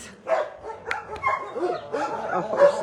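Dog barking repeatedly at an animal shelter, several sharp barks and yips close by, with people talking alongside.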